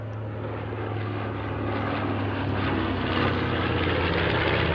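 A B-25J bomber at a 2002 airshow pitches up, its piston propeller engines making a steady, full, continuous drone that swells slightly throughout, with no talk over it.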